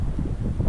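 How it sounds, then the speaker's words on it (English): Wind gusting against the microphone at a mountain backpacking campsite, a loud, low, continuous buffeting roar with no clear pauses over a short stretch. "It's windy, but it's clear and temperature's not bad."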